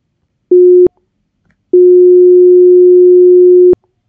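A pure electronic sine tone aliased by an 800 Hz sampling rate, lower than the original pitch, sounds twice: a short beep, a pause, then a longer sustained beep of the same steady pitch, loud and clean.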